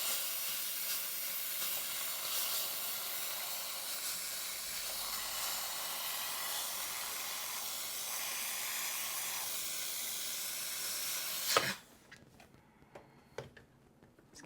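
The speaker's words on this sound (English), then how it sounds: "Gonna hit it with some steam." A Bissell handheld steamer sprays a steady, loud hiss of steam for about twelve seconds, cleaning a Ninja Foodi XL Pro air oven. The hiss then cuts off abruptly, leaving quiet clicks and light handling sounds.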